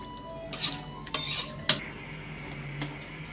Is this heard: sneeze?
no